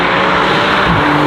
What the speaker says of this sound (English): Ooh, Maserati with your V6 engine.